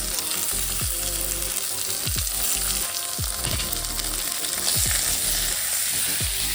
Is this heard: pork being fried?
yes